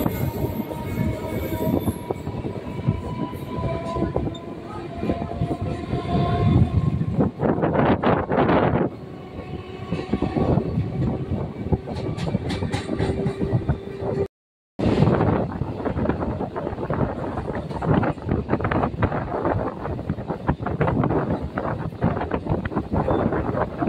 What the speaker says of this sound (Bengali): আমাদের ট্রেন এখন যাদবপুর স্টেশন ছেড়ে বেরিয়ে যাচ্ছে।